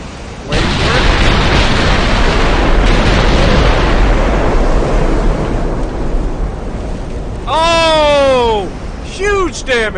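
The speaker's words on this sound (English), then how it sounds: "listen to these guns go off one at a time." Guns firing one at a time during a ship battle, heard as heavy booming blasts that blur into a continuous roar of rumbling noise, with a voice-like tonal sound rising near the end.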